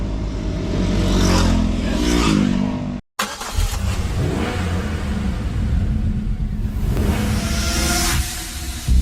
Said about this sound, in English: here comes some motorbikes on the back wheel